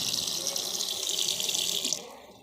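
Tap water streams steadily into a sink during handwashing, a close, continuous hiss that cuts off near the end.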